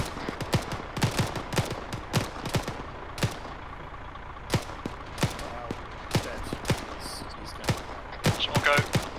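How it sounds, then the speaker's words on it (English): Gunfire in the military video game Arma 3: sharp shots in irregular single cracks and short bursts across the whole stretch, some loud and close, others farther off, over a low steady background. "I know I can hear the shots"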